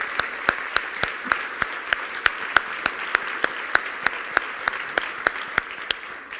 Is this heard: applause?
yes